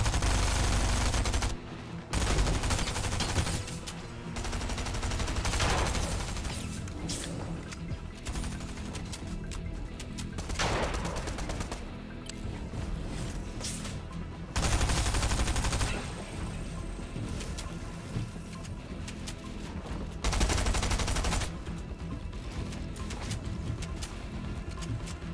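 Rapid gunfire from Fortnite rattles almost nonstop, loud bursts of shots broken by brief pauses and layered over busy game sound.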